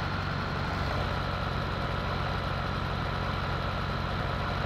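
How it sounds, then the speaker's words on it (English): Loud New Holland TM tractor engine in Farming Simulator 17 runs as a constant, dense, low rumbling drone for the whole stretch, with no other sounds on top. "The engine's very loud, and I'm struggling here, and hopefully you can hear me."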